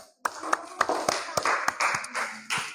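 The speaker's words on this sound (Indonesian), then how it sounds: "Tepuk tangan." A school class claps hands in a lesson, a dozen or so sharp, separate claps in an uneven rhythm, fairly close, with some voices murmuring between them.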